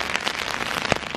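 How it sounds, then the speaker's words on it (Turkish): Heavy rain pours down outdoors in a forest, a steady dense hiss of drops with one sharper splash or tap standing out near the end. "Çok inanılmaz yağmur yağıyor ya"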